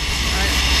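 Steady, loud engine roar from an airplane waiting on the ground before a tandem skydive, a broad, continuous drone filling the whole moment, with people talking over it.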